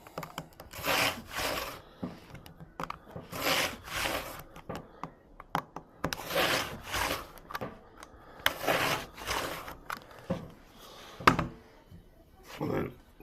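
A rotary cutter rolls through slingshot rubber band material in a series of short, rasping strokes, with brief pauses and small knocks between cuts, close and moderately loud.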